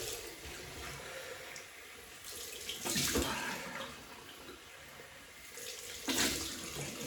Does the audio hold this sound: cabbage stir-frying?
no